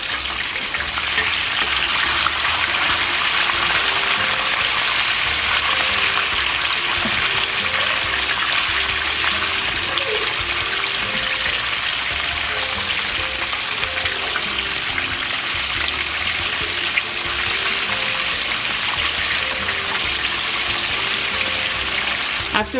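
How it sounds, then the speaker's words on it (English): Buttermilk-battered chicken pieces sizzle steadily in hot oil, a loud, continuous crackling hiss with a faint bubbling undertone that holds evenly throughout with no talk. "go ahead and continue frying them for another 7 to 8 minutes"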